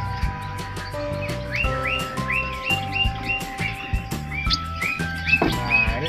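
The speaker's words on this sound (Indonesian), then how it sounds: "yang disebut dengan burung cucak cungko, endemik asli burung dari Cina ini bos" Cucak cungko birds, a species native to China, call inside a bird shop with repeated bright chirps and whistled notes over a low, rhythmic mechanical background.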